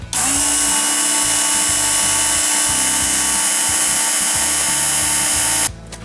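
Work Sharp powered sharpener grinding the edge of a Schrade knife, a loud, steady high-pitched motor whine with a rhythmically pulsing grind as the blade is drawn through, running continuously before cutting off near the end.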